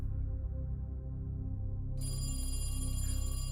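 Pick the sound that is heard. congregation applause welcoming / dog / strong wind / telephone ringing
telephone ringing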